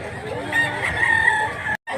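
A bullstag rooster in Mantalungon, Cebu crows nearby, one drawn-out strained call lasting over a second, followed by a brief silence.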